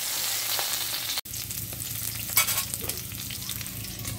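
Potatoes fry in a pan with the lid lifted, a loud continuous sizzle broken by a brief gap and a sharp clatter, followed by crackling and stirring scrapes close by.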